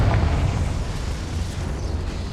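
The Confringo explosion spell goes off in Hogwarts Legacy with a single heavy, rumbling blast that stays loud and deep, then slowly fades into a lingering roar.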